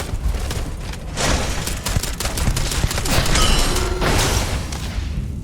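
Loud, dense bursts of video game gunfire, rapid overlapping blasts and booms filling several seconds with little pause between shots.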